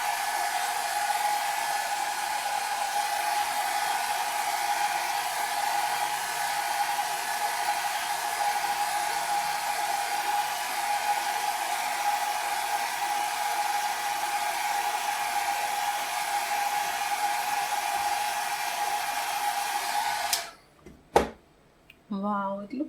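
A hair dryer blows alcohol inks across a ceramic tile with a steady, loud, continuous rush for about twenty seconds, then cuts off abruptly, leaving a few soft knocks.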